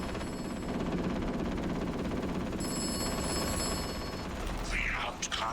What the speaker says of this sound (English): I've got a phone call.